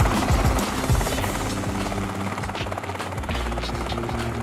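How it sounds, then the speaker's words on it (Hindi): A helicopter's rotor chops loudly and steadily as it sets down on a helipad at the rear of an extremely long limousine. The rotor thump and engine whine go on without a break and there is no talk. "और इसमें कुछ इस तरह से एक हेलीकॉप्टर उतर भी सकता है।"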